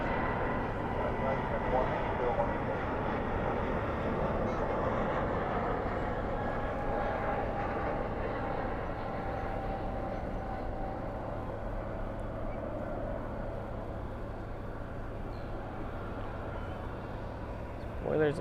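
At night at DFW airport, an airliner lands with spoilers up and thrust reversers deployed, giving a sustained, fairly loud rushing roar that slowly eases over the span.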